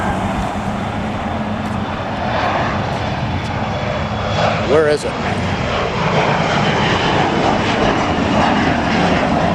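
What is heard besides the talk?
airplane taking off from LAX north runway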